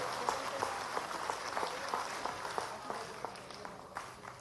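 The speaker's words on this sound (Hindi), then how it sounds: "सभी लोग जोरदार तालियों से" An audience at a public event applauds, with scattered claps standing out from a steady wash of hands at moderate distance that fades slightly toward the end, with no clear speech.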